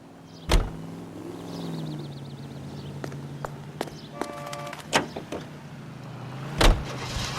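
In the video game L.A. Noire, a car engine hums steadily at low pitch while sharp clunks and door-like thuds break in now and then, with an electronic whir partway through.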